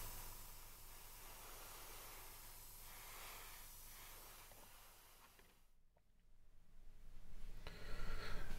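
An airbrush sprays RLM70 black-green paint onto small 1/72 scale model bomb parts for an Airfix Dornier Do17z kit, a steady close hiss that briefly drops away, then resumes louder.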